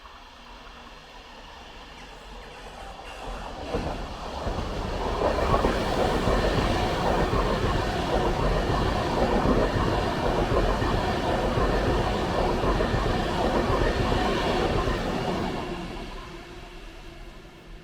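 A train approaches, rumbles past close by with rhythmic clattering wheels for several seconds, then fades away into the distance, near Carlisle railway station by the River Eden.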